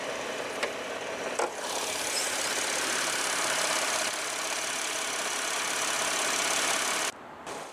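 A 2017 Cadillac XT5 with GM's LGX 3.6-liter naturally aspirated V6 idles after start-up, a steady smooth engine drone heard close with a couple of faint clicks, dropping away near the end.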